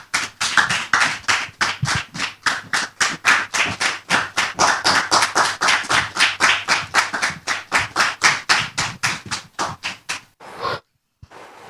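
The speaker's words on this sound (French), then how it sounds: "Très cher public, je vous demande de la recevoir ici et maintenant sous vos applaudissements." Audience applauding to welcome a guest onto a stage, a loud, close, rhythmic unison clapping of many beats that runs for about ten seconds, then stops abruptly with a couple of last claps.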